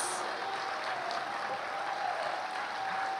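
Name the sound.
audience applause for award recipients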